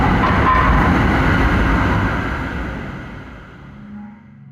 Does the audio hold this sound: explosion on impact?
no